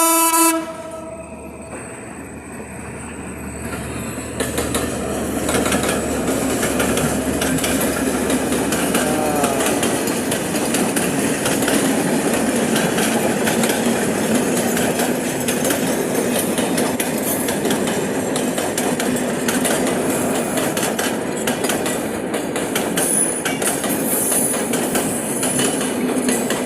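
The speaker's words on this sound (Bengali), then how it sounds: "দেখেন ট্রেনটা কত স্পিডে আসতেছে, অনেক স্পিডে আসতেছে" A long train races past at high speed beside a bridge by a riverbank. It sounds its horn at the start, then a loud, continuous rumble and clatter of wheels on rails rolls on for the full length, close and steady.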